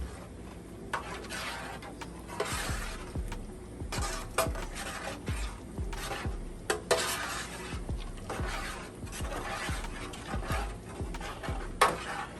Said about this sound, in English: Let's stir this up a little bit more.